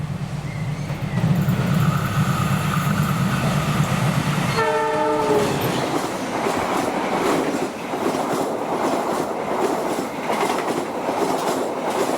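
A train horn blasts in a long, loud harmonic tone, then heavy rumbling and rolling wheel noise as the Argo Parahyangan passenger train passes close by.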